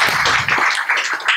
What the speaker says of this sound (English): So let us give her a big round of applause.